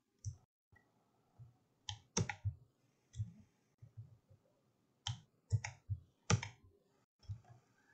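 Sparse, dry computer mouse clicks while working in Rhino 7 3D modeling software, single and paired taps close and quiet against a near-silent background.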